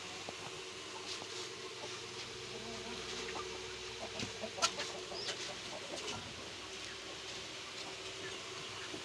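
Free-roaming desi hens cluck softly outdoors in a quiet rural yard, with faint scattered clucks and insect buzz over a low background and one brief louder sound near the middle.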